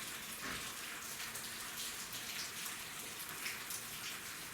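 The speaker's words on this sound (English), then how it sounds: "it is raining outside" Steady rain pours outside an abandoned 1800s plantation mansion in central Kentucky at night, a dense continuous hiss of falling water with no break and no voices.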